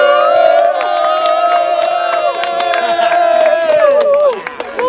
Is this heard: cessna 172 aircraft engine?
no